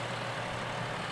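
A tractor engine runs at a steady low drone while a concrete water trough is lifted off a pallet, a constant mid-level rumble with no change over the brief moment.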